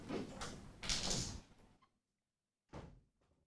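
A door is pulled shut indoors, with a scraping, rustling movement followed by a solid thud, then a brief second knock after a short silence.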